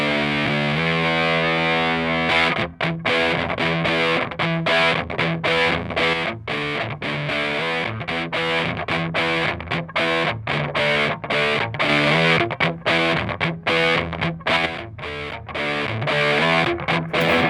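Overdriven electric guitar through an EarthQuaker Devices Life pedal set to its drive alone, with the octave off, crunching out heavy distorted chords and choppy muted riffs, loud and continuous with brief rhythmic gaps.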